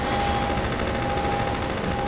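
Rapid, continuous gunfire in Half-Life 2, a loud dense clatter of shots that holds steady throughout with no pauses.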